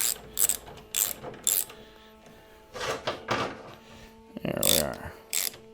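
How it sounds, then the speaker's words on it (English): Ratchet clicking in short bursts as it runs bolts down snug on a Harley M8 Softail kickstand, several separate clicking runs with pauses between them, close and fairly loud. "we're going to run them both in there just till they're lightly snug"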